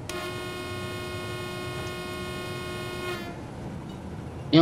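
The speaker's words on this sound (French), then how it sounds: "Un petit coup de klaxon." Train horn toot in Train Simulator 2017 on a run from Lübeck to Hamburg, a steady harmonic tone held about three seconds over engine rumble, then cut off.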